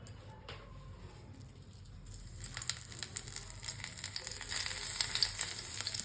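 Small balls of gima greens fritter batter, with gram flour, drop into hot oil, starting quiet and swelling into a steady crackling sizzle that grows louder over several seconds.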